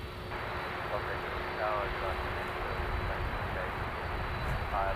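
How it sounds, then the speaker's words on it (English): A Delta Airlines Boeing 767-400 jet at LAX airport gives a steady broad engine roar, heard at a distance, while someone talks over it. "the big 767-400 Delta Airlines heading to Atlanta"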